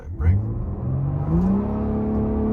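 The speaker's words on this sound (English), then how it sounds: "I'm just spinning out. Oh my God, I literally just lost traction." A tuned BMW E30's engine revs with a rising tone through a hard 0-60 launch as the wheels spin and lose traction, loud and close throughout.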